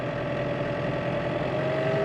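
Farm tractor engine running with revs raised, a steady droning hum with a constant tonal note, close and even for the whole stretch with no talk.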